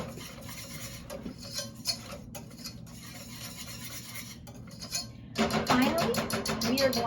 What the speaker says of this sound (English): we're going to whisk in a whole teaspoon of vanilla and a ½ teaspoon of cinnamon